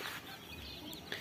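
A rooster clucks a few short, quiet times against a faint background hiss, with no talking.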